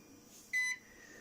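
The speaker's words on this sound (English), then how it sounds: "I'll have to do something about that bloody beeping noise, because it's annoying." A UPS running on battery gives a single short electronic beep, about a quarter second long, over a faint low hum in a quiet room.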